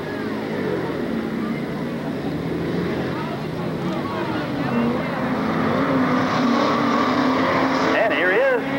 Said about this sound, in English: Greg Becavec in his '79 Camaro out leading Alan Fannen around the racetrack